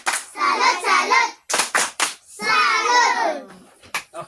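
Children clap and chant together in bursts, quick sharp claps interleaved with their shouted voices, close and loud.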